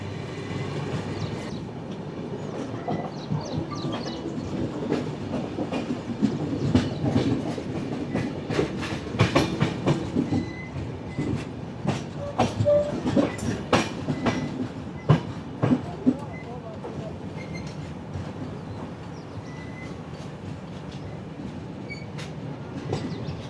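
Train 11013 approaches Dudhani station with rhythmic wheel clatter over rail joints, scattered metallic squeals and clanks, and a rumbling run that grows busier in the middle before easing.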